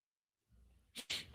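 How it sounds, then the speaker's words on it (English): A man sneezes once close to the microphone during live play-by-play commentary of an NFL playoff game, with a short breathy intake followed by a sharp burst. "One of the few times I get caught with a sneeze on the air."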